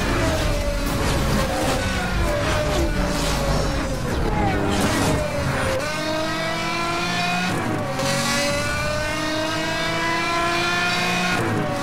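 A Pagani Zonda accelerating in the racing game Need for Speed Hot Pursuit Remastered: a loud, steady engine howl climbing in pitch through the gears, dipping at each shift before rising again, close and continuous.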